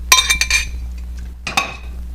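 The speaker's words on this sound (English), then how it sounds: "I always like doing my eggs with a fork for some reason" A fork beats eggs against the side of a bowl while making poultry stuffing, quick close clinking taps in two short bursts separated by a brief pause.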